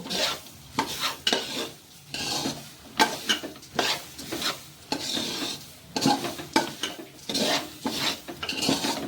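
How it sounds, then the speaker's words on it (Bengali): Khichuri ingredients being stirred and fried in a pan, a ladle scraping and clanking against the metal in repeated strokes over a soft sizzle, close up with no talking. "এই দেখুন এরকম নেড়ে নেড়ে একটুখানি ভেজে নেব"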